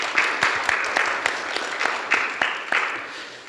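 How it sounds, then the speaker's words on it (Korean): A Korean forum audience at a climate and renewable energy panel applauds an introduced panelist, with steady dense clapping and a few sharper claps standing out, fairly loud and with no talk over it. "박수 부탁드리겠습니다."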